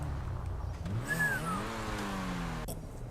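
A car in GTA V is driven and parked, its engine revving up in a rising whine and then easing off, a steady, moderately loud motor sound with no talking.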